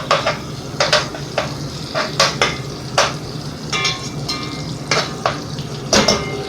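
Ground beef and rice fry in bacon fat while being stirred. Loud, close metal scrapes and clanks from the utensil against the pan come in a quick, irregular rhythm over a continuous sizzle, with no talking.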